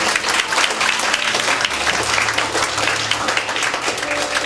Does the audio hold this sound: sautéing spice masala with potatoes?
no